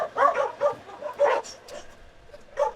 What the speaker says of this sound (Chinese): 这些狗狗好像跟我们还不熟，所以对我们叫。